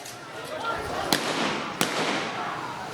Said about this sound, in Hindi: पुलिस वाले सीधे फायर कर रहे हैं लोगों की तरफ